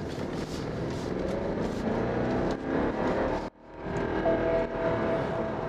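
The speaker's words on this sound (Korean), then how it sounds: "원래 엔진 작업하고 터보가 문제가 있는지 보려고 급가속을 하거든." A BMW 750Li F01 sedan accelerates hard from inside the cabin, a steady loud engine roar and whir building, briefly cutting out and then resuming strongly.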